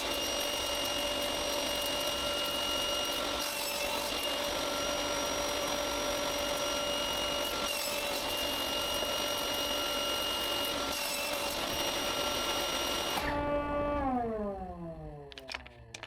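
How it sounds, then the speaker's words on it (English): A saw cuts through walnut, purple heart and maple pieces set against a stop block, a loud steady whine with brief dips as the blade meets the wood, then the motor spins down at the end. "Then I place the stop block 20 centimeters from the saw blade and cut the uneven side of the 4 pieces."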